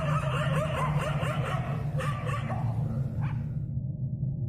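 Dogs barking and attacking, a loud continuous flurry of rapid overlapping barks and yips over a dense rumbling background, easing off near the end.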